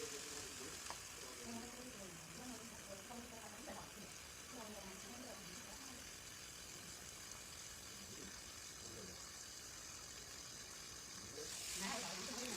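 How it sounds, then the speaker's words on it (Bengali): Desi chicken with fried potatoes, turmeric and salt being stir-fried in a pan: a steady broadband sizzle runs throughout, with indistinct voices murmuring in the background for much of it. "এবার এটাকে আমরা ভালো করে আবার কষিয়ে নেব।"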